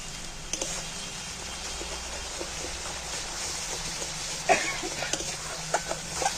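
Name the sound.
spices sautéing in a pan for egg bhapa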